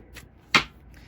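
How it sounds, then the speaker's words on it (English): Tarot cards are shuffled in two quick riffling bursts, the second one louder and sharper, close and with no talking. "2 more shuffles and we pull from the top"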